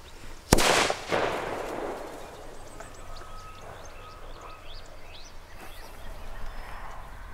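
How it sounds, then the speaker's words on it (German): Funke D firecrackers going off outdoors: one sharp, loud bang near the start followed by a second blast and a decaying rumble, then quieter ambience with birds chirping. "Jetzt geht's weiter mit den Funke D-Böllern"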